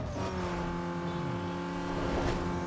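Opponent's car engine in the racing video game Need for Speed Underground 2, a steady droning rev with shifting pitch, loud and continuous throughout without talk.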